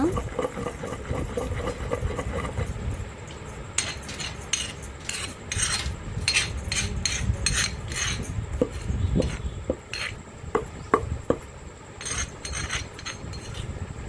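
Tomatoes and green chillies are ground into a village-style chutney in a stone mortar: a steady, close grinding and scraping, with irregular knocks and clatters throughout.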